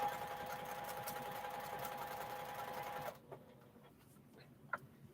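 A domestic sewing machine, used for free motion quilting, runs steadily while sewing 2.5 inch fabric strips, a loud continuous whir that cuts off abruptly partway through, leaving faint scattered clicks and handling noises.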